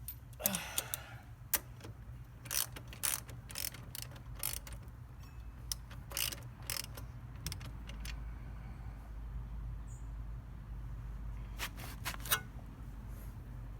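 Tightening the rear wheel axle on a Honda C125 Super Cub produces a series of sharp ratchet clicks in short bursts, close up, over a steady low hum in the background.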